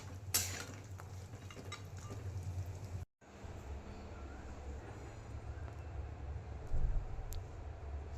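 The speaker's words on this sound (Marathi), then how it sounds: "छान ते असं ब्राऊन कलर येईपर्यंत तळून घ्यायचं आहे." Grated coconut fries in turmeric-tinted oil in a pan, stirred now and then, giving a steady sizzle with scraping and clinks of a utensil against the pan, a brief dropout partway through.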